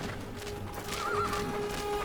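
A horse whinnies midway in the video game Fable: The Journey, a short wavering neigh over a steady droning game background with faint clip-clop, no talking.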